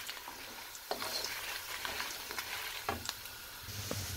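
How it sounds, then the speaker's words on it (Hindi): Red chillies cooking in a pan for momo chutney give a steady close sizzle with irregular scraping stirs and a few sharp spatula knocks, with no voices. "2 से 3 मिनट लाल मिर्च को पका लेंगे अच्छे से।"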